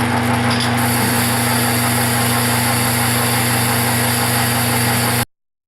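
A metal lathe takes a light cut on a riser foot, giving a steady, loud machine drone with a constant hum throughout that stops abruptly near the end.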